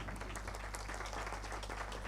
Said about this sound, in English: Please give a big round of applause for President Ryu